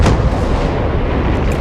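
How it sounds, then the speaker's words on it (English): Warspite battleship's secondary guns firing in World of Warships, a loud, continuous rumbling barrage of booming blasts close up, dense and unbroken across the whole moment. "Warspite with the secondaries takes the ship"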